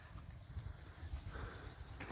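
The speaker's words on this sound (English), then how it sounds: "It must be feeding time because these cows are running." Hooves thud rapidly on the ground as several cows run close by at feeding time, with low rumbling footfalls and some outdoor background noise in the Dorset countryside near Dorchester.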